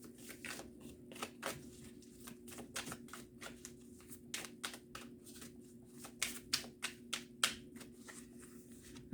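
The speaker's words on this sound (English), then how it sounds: "So let's pull a high vibe card for you" Tarot cards being shuffled and handled nearby, a quiet run of crisp, irregular flicks and snaps of card stock with short pauses between bursts, growing a little sharper toward the end.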